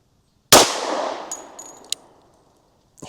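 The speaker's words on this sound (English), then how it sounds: "I'm just going to worry about shooting the group." .45 ACP pistol fired into ballistic gel: one loud, sharp report rings out with a long decaying echo, followed a couple of seconds later by a faint metallic click.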